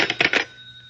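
A telephone bell rings in an old radio drama, a short burst of rapid metallic trills that stops quickly and leaves a faint ringing tone fading away.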